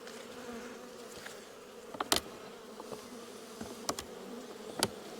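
Bees hum steadily around an open colony in a hive inspection, a soft continuous drone with a few sharp louder buzzes as individual insects fly close past, no voices.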